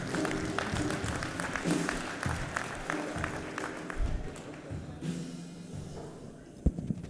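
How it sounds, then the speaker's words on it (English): A luncheon crowd at a 2018 MEAC football press event applauds its coaches with a steady wash of dense clapping that tapers off, with a few louder knocks near the end. "Round of applause for all of our coaches."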